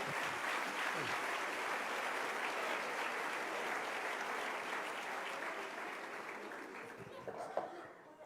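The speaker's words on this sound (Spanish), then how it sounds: "denle un aplauso al Rey" A church congregation applauds during a faith service, with broad, sustained clapping that fades slowly over several seconds and a little laughter near the end.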